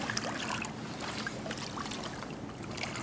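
Paddle strokes dip and trickle through calm water beside a skin-on-frame kayak, soft steady splashing with faint wind and no talk.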